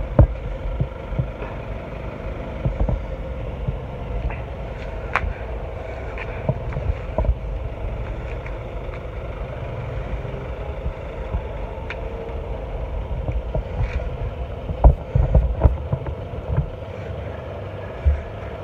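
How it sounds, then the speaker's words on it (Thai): A parked car's engine left running near a beach, idling steadily at close range as a constant low hum with occasional small knocks and clicks, and no voices. "เสียงรถยังไม่ปิดเครื่อง"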